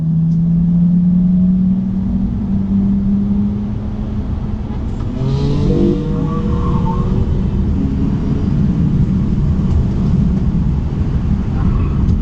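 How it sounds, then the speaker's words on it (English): A BMW M3 engine revs and builds in pitch during a 40 mph acceleration pull from level ground, a steady droning roar, with a shift partway through, heard from inside the car. "what you're hearing in the background is us trying to do another 40 mile an hour pull, but starting level"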